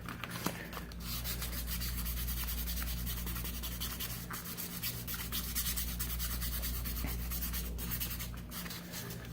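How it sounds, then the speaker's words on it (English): Wooden pick handles are lightly sanded by hand, a steady close scratchy rubbing that continues evenly throughout over a low background hum, with no talk. "We're just lightly sanding them and just smoothing them out a little bit."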